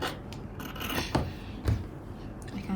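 Scissors cutting through chiffon fabric while a shift dress is trimmed to size, a few soft snips and rustling rubs close by, with faint low thumps between cuts and no talking.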